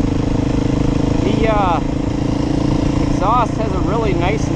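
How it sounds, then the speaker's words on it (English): A 2021 Beta 430 RR-S dirt bike's engine and exhaust run steadily and loud up close, a continuous mid-pitched drone, while someone talks over it. "exhaust has a really nice note to it."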